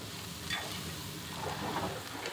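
Ivy gourd curry stirred in a non-stick pan, a continuous low sizzle with faint scraping of the spoon, steady and fairly quiet, without speech.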